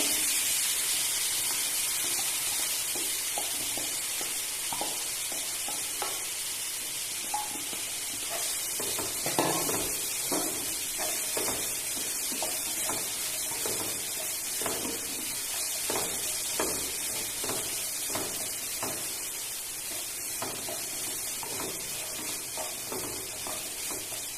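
Cooked kharshing pods stirred in a pan as the vegetable is mixed, with a steady steamy sizzle and hiss throughout and soft, irregular scraping taps of the stirring spoon.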